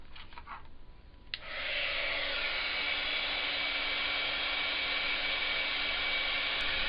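After a brief quiet start, a handheld hair dryer switches on to dry watercolor paint on embossed paper, then keeps up a loud, steady whooshing blow.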